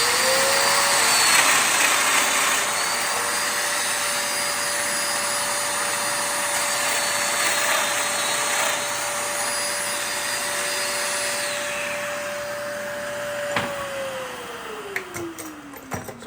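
A Festool Domino joiner cuts mortise holes in a wooden board, running with a loud, steady motor whine that holds level before winding down near the end, followed by a few light clicks and knocks.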